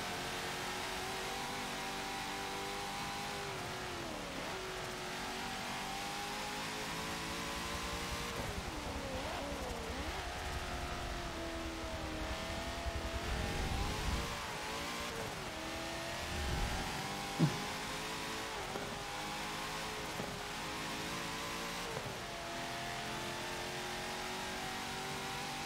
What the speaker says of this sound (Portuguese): olha o carro que corre